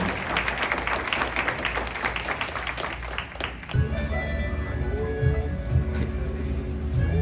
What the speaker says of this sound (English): we give them a round of applause and we congratulate them on this big moment.